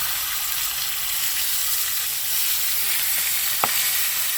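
Garlic-seasoned Cornish hen frying in hot grease outdoors, a loud steady sizzle and crackle that holds throughout, with one brief sharp pop partway through, no voices.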